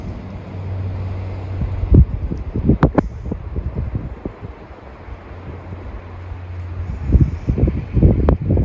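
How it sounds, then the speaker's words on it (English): Strong gusting wind outdoors at a deer-hunting spot, rumbling buffeting against the microphone in uneven surges, with intermittent rustling and knocking nearby. "Still got quite a bit of wind right now."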